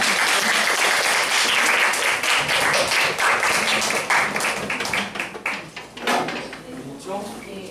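A group applauds at a summer course completion ceremony as team leaders are honored, loud close clapping that thins and turns ragged toward the end, with a few voices and scattered knocks mixed in.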